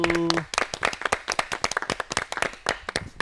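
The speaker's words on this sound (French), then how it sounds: "On peut applaudir Speedy, merci beaucoup." Brief clapping begins the clip, then spreads into a dense burst of audience applause that continues throughout.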